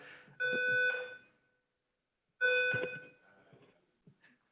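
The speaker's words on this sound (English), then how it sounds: "Set off the fire alarm, I guess." A building fire alarm sounding during a House committee hearing on financial institutions, two loud, tonal electronic blasts separated by a pause, followed by faint trailing sounds.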